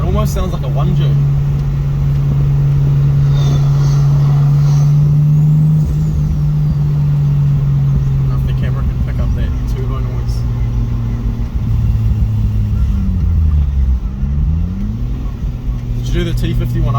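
A Mazda RX-7 FC that sat for 12 years, gently driven while still cold, its turbocharged engine droning steadily with pitch shifts as it accelerates and eases off, close up, under occasional voices.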